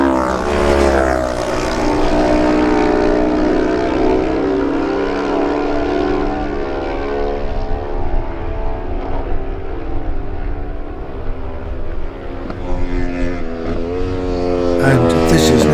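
Kawasaki racing motorcycles in a lightweight road race roar past in close order, a loud sustained engine drone with rising and falling pitch that swells again at the end.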